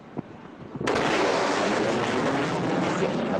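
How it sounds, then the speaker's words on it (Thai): A quiet stretch, one soft thump, then a sudden sharp sonic boom from a fast jet aircraft gives way to a loud, sustained jet roar that fills the rest. "ไอเสียงระเบิดที่เราได้ยินเนี่ย เราเรียกว่าเกิดโซนิกบูม"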